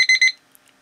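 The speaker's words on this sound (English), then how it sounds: "that is the worst alarm sound ever" A Beast Wars Transformer toy alarm clock sounds a shrill electronic beeping in two quick close bursts, loud and near, followed by a short silence before another beep starts.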